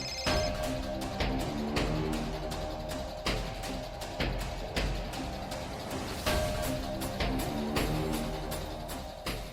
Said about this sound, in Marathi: रिंग वाजते.